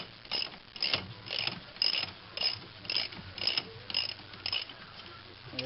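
A ratchet wrench turns a 14 mm bolt on the caliper support of a rear brake, giving roughly ten short, quiet bursts of clicking in a steady working rhythm, close by.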